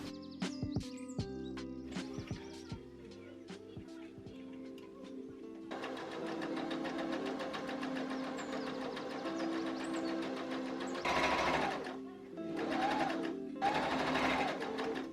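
Sewing machine stitching a skirt made from bedsheet fabric, starting with a few clicks and handling sounds, then running in steady close bursts with short pauses between seams.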